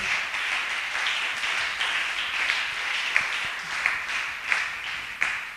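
A church congregation applauds after a call to acclaim the Lord, a dense, steady wash of many hands clapping that swells in brief louder bursts for several seconds without any talk.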